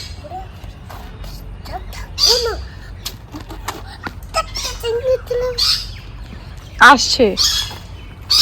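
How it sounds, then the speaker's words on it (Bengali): Crows cawing and smaller birds chirping in a fruit tree outdoors, scattered calls in short bursts at varying distances, with people talking between them. "এই ধুয়ে খাবে মনে অনেক পাখি বসছে"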